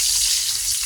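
An eggplant omelette with meat, tortang talong, fries in a pan with a loud, continuous close-up sizzle that holds steady throughout the brief moment.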